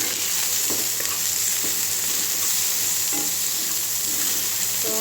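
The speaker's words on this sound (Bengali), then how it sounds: "মাথার সাথেই ভাজা হয়ে যাবে পেঁয়াজ।" Mola fish heads sizzle with onion in a pan, a loud, even frying hiss with occasional soft stirring knocks, close up and uninterrupted by speech.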